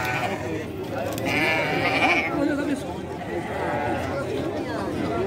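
Sheep bleat repeatedly at a goat and sheep fair in Ouricuri, mixed into a busy crowd with people chattering and talking close by.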